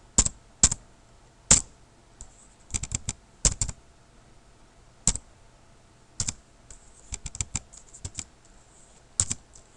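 Keys clatter on a computer keyboard while HTML code is typed: short bursts and isolated taps separated by pauses, close and crisp with no talking.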